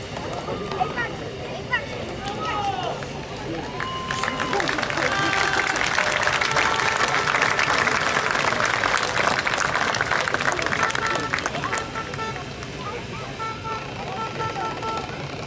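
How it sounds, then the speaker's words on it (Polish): Crowd applause rings out at a speedway medal ceremony in Gdańsk honouring the third-place rider, a broad clapping swell building mid-clip and easing off, with an announcer's voice over it. "Wielkie brawa!"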